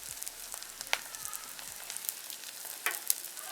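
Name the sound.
onions frying in pan for Jaffna bean curry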